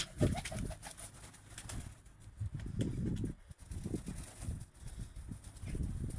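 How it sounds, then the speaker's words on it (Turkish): Pet pigeons outdoors coo in low, repeated throaty bursts close by, with soft shuffling and wing rustles mixed throughout. "Evet kuşlarımız yavaştan dışarı çıkmaya başladı."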